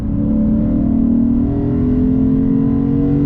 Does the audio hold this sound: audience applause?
no